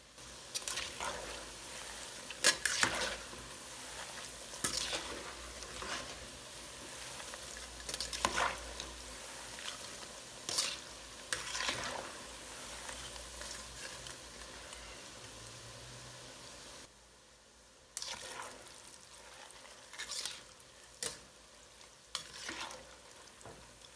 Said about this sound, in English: you want to go in at regular intervals to stir this around so that one side does not fry and the other side is still pale